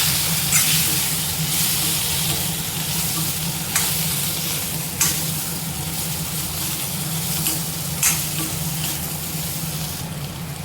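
Boiled potatoes frying in a pan, a loud, dense, steady sizzle with a few sharp spatula scrapes spaced several seconds apart.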